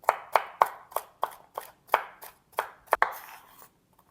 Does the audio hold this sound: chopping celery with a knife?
yes